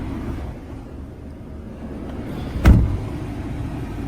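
A Mazda 3's engine idles steadily and low in the background, with a brief louder thump or rustle partway through.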